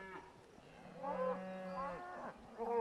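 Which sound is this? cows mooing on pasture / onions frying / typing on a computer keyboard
cows mooing on pasture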